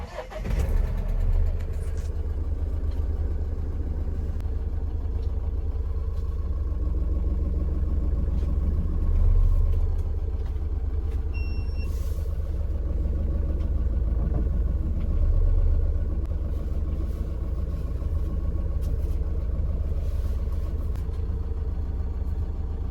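A pickup truck engine runs at a steady idle close by, a continuous low rumble that holds evenly for the whole stretch with no voices over it.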